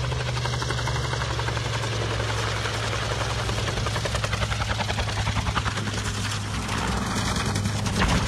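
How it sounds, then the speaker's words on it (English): A DHL cargo plane veering off the runway after landing, heard as a loud, continuous low engine roar with a steady heavy drone and no voices. "After landing, ADHL cargo plane veers off the runway, unable to stop in time."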